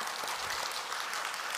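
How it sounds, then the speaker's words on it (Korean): Church congregation clapping during a Wednesday sermon, a steady, dense wash of applause that fills the short moment without any voices. "박수 한번 쳐야죠"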